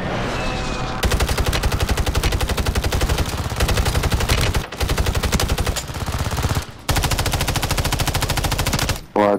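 Rapid machine gun bursts fire in Call of Duty, dense and loud, with a few short pauses between long volleys and no talking.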